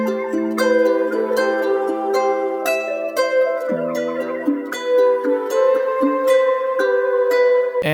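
A pitched-up melodic sample loop for a hip-hop beat, with bright chordal tones and plucked notes playing steadily and loud with no talking.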